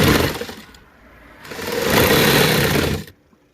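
A household sewing machine running while stitching on buckram and breaking its thread: a close, steady mechanical whir that speeds up, slows, surges again and then stops abruptly.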